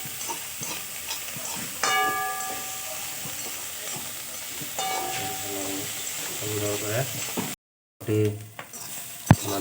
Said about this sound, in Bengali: আমাদের করলা ভাজাটা পুরোপুরি হওয়ার পথে, আর বেশি বাকি নাই।